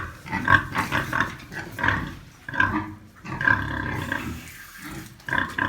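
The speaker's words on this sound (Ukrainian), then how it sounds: "Та ти ще не поросила, що ти хрюкаєш." A pregnant sow grunts repeatedly in short, rough bursts, close by and fairly loud, with brief pauses between the grunt clusters.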